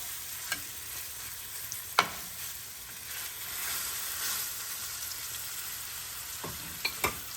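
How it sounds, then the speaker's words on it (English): Salmon fillets sautéing in a frying pan, a steady soft sizzle punctuated by several sharp utensil taps and scrapes as the pieces are flipped, close and without speech. "So I'm going to flip them again. And just basically kind of like saute them"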